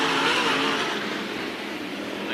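Late model race cars roar around the oval during a heat race, a dense, loud, continuous engine drone that fades slightly as the pack moves, with no talking over it.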